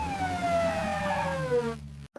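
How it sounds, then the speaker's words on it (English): An ambulance siren wails steadily in a single falling sweep that fades out toward the end, fairly near and heard alone with no voices. "A is for ambulance."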